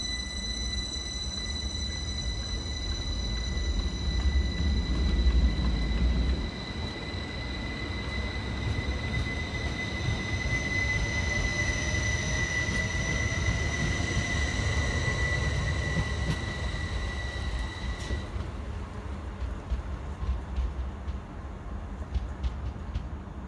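A Class 333 electric multiple unit pulls out of Bradford Forster Square station with a steady low rumble of wheels and motors, plus a sustained high whine that cuts off near the end, heard alone at close range.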